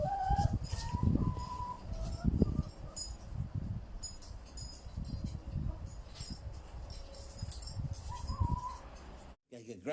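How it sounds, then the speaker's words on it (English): Chickens cluck and call at moderate distance in a kitchen, several bursts scattered through the clip, mixed with low background bumps and faint voices. "The chickens get into the kitchen."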